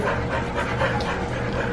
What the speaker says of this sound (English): pardon the dog, she just came in from outside.